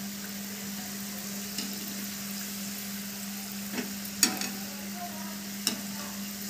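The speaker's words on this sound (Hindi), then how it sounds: "क्योंकि समोसे डीप फ्राई होते हैं तो इसलिए तेल थोड़ा ज़्यादा लिया है मैंने" Samosas deep-fry in a pan of oil with a steady, hissing sizzle under a constant low hum. A few faint clicks and taps from stirring or turning break in now and then.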